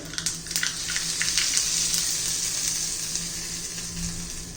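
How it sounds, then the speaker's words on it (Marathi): Mustard and cumin seeds crackle in hot oil, with sharp popping clicks over a steady close sizzle that runs throughout, louder in the first moments. "जिरं मोर तडतडले आता आता घालून घेऊया आपण"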